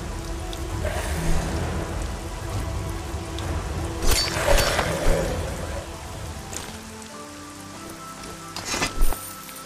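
Steady rain hissing across surfaces from the weather system in the video game Arcania, a continuous close wash with brief louder gusts and a few sharper crackles, no talking.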